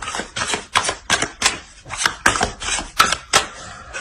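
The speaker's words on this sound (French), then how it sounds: "On va rajouter des cartes." Playing cards being added to a deck and shuffled during a tarot-style reading, a quick series of sharp, crisp snaps and riffles in an irregular rhythm, close and alone with no talk.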